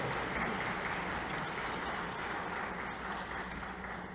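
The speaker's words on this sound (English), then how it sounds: "A big round of applause." A conference audience applauds after a presentation, a steady, even wash of clapping that holds at a moderate level for about four seconds with no voices over it.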